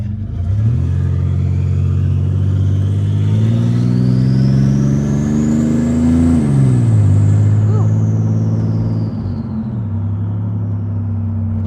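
A 1980s muscle car engine idles and revs in a steady, loud rumble that climbs and falls in pitch over several seconds, heard close with an outdoor park setting around it.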